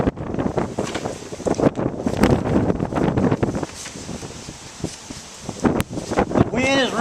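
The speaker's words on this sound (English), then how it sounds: "The wind is really blowing hard out here." Strong wind gusting outdoors and buffeting the microphone as a steady broadband rush, with someone talking over it throughout.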